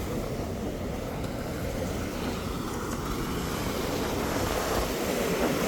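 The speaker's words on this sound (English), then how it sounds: "Listen to that ocean." Continuous, steady broadband roar of ocean surf at Caspersen Beach, Florida, heard close and fairly loud with no distinct breaks between waves and no talking.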